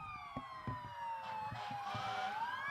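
Sirens wailing at a Christmas parade, several overlapping sweeping tones rising and falling under crowd noise and thumping sounds, moderately near.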